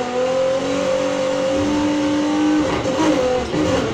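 A 1977 Pontiac Firebird engine in Need for Speed Heat roars steadily at high revs with a sustained tonal whine, then a brief rough burst near the end, loud and close with no talk.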